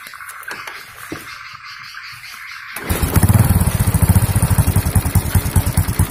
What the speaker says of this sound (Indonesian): motor sudah hidup ya, pakai kiprok seperti ini bisa ya